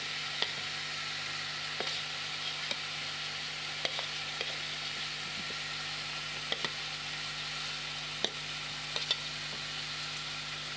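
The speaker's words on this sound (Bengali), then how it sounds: "এইবারে আমি দিয়ে দেব ভেজে রাখা আলুগুলো।" Already-fried potatoes going into a hot pan of Bengali cucumber curry set off a dense, steady sizzle, with occasional clinks and scrapes of stirring on top, heard close and alone.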